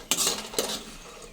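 Dry-roasted red chillies rattle and scrape in a pan for curry leaf spice powder, two quick bursts of crisp, close rattling with the stove off, no talking.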